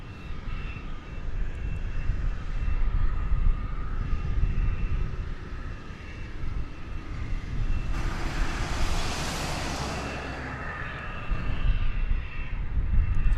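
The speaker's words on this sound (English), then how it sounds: "It's coming in from Monterey. It's an Airbus A319." An American Airlines Airbus A319 arriving from Monterey lands at DFW, a steady engine roar with a broad rushing swell partway through as it passes close, then fading back to a low rumble.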